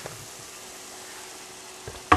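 Crawfish splashed with a couple dashes of Louisiana hot sauce sizzle in a pan, giving a soft, steady, fairly quiet frying hiss with a faint stir at the start and a small clatter at the very end.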